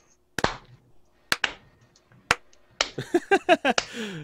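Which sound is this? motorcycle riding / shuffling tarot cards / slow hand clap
slow hand clap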